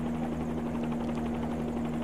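A helicopter in the X-Plane flight simulator game thrums steadily, its rotor drone and engine hum holding constant and loud with no voices.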